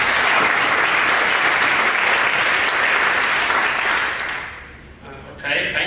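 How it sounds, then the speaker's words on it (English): Audience applause for Piotr at a BSD and coreboot conference talk, a dense, loud wash of clapping that holds steady for about four seconds, then thins and fades into quiet. "give a round of applause for Piotr"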